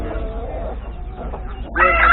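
Low clucking and farmyard murmur at a poultry market in Isparta, Turkey, then a rooster begins a loud crow near the end, close to the listener.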